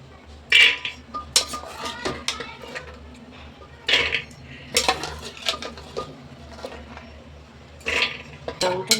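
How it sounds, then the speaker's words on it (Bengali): Soaked kabuli chickpeas tipped into a pressure cooker, giving clustered clinks and metallic clatter in uneven bursts with quiet gaps between, close by and fairly loud. "প্রেশার কুকারের মধ্যে আমি এই কাবলি চানাগুলো দিয়ে দেবো"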